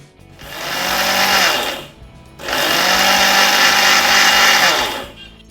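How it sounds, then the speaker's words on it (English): Mixer grinder grinding moong dal, jaggery, cardamom and cashews into a coarse powder, a loud close whirring motor in two bursts separated by a brief pause. "we need to simply grind it to form a coarse powder"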